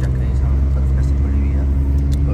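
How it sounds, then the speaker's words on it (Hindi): A 660 cc car labours up a steep mountain road toward Babusar Top from Naran, its engine droning steadily and loudly from inside the cabin, with a voice speaking over it. "गाड़ी का फुल जोर लग रहा है, अगर आपको आवाज़ आ रही हो तो चढ़ाई है"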